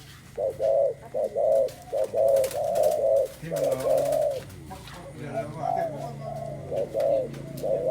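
Spotted doves used as decoys coo in repeated soft phrases, a steady rhythmic series of low hooting calls, fairly close, with faint voices and background noise, in Sam Chuk, Suphan Buri, Thailand.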